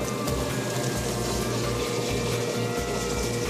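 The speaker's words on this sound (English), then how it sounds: "put a little bit of water on them" Water runs and splashes onto stoneware clay on a pottery wheel, a steady wet trickle under a low rhythmic whir from the spinning wheel.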